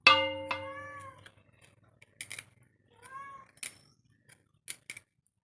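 A cat meows loudly and close for a fish head, a long, bending call at the start and a shorter meow near the three-second mark, with a few faint clinks and knocks between them in an otherwise quiet kitchen setting.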